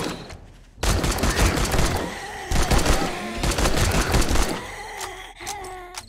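Rapid gunfire from a gun in the survival game 7 Days To Die, loud dense volleys running for several seconds with short gaps, then tapering off near the end.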